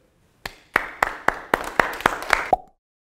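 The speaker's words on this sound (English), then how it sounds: "Thank you for being here to clap for me and me only" Eight sharp hand claps ring out one by one in an office, evenly spaced and fairly close, with a short pause after the first clap and silence once they stop.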